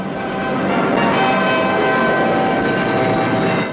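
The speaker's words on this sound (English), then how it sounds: "Notice the effect of reverse thrust from the 4 Rolls-Royce Avon jets as the huge airliner" A huge four-engined Comet 3B airliner touching down, its four Rolls-Royce Avon jets in reverse thrust, producing a loud, steady broadband roar that holds throughout.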